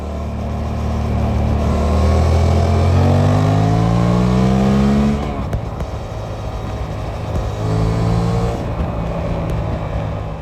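A Suzuki GSX-8S motorcycle rides on a motorway, its engine revving up through rising tones, then easing and pulling again under loud steady wind roar.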